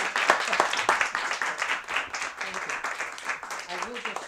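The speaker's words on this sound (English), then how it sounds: "you give him a round of applause" Audience applause after an academic talk: scattered, sharp claps heard close, with people talking over them.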